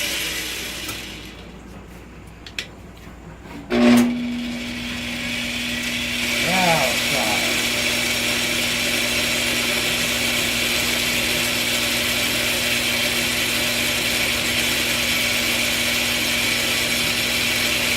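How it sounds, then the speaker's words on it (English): A Craftsman Atlas 6x18 metal lathe runs with its lead screw engaged, giving a steady mechanical whine and hum. A few sharp clicks come early on, and a voice may be faintly present. "Now we got our lead screw working"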